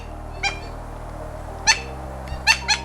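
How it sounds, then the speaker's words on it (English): Gray-breasted mountain toucan giving several short resonant croaking calls in the Andes, moderately near, spaced irregularly over a low steady background hum. "Their rolling resonant croak echoes through the misty Andes, immediately announcing their presence."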